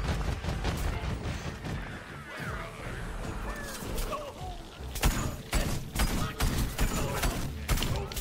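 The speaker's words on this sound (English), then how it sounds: "Spamming till I'm sure the shots will actually hit." Rapid repeated gunshots in the Plants vs. Zombies video game, a dense crackling volley of sharp cracks and thuds layered over busy game sounds, growing more punchy toward the end.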